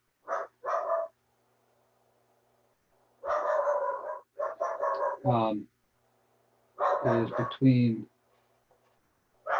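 A dog barks on a campus during a calculus lecture: a few short, sharp barks in separate bursts, close and fairly clear, with quiet gaps between them and a little speech mixed in.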